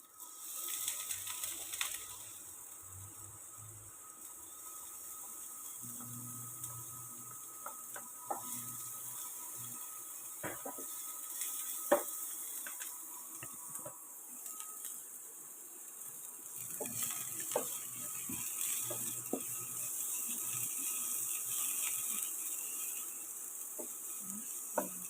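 Onion and garlic sautéing in a pan for ginisang ampalaya, a faint, steady sizzle punctuated by occasional scraping and stirring clicks, with no talking.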